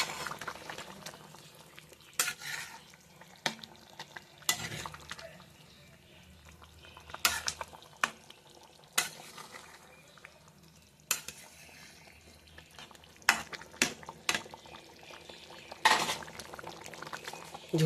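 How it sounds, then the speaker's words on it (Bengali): Egg curry simmers in a pan with a soft bubbling bed while a spoon scrapes and clanks against the metal in intermittent stirring strokes, close by and alone. "দেখো ডিমের ঝোল হচ্ছে"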